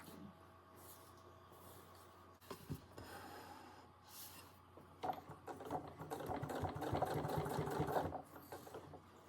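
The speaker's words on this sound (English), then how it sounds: "So I'll sew the first one." A sewing machine stitches a fabric storage pouch, a soft whirring run that starts hesitantly and then picks up into a steadier, louder burst of rapid stitching near the end.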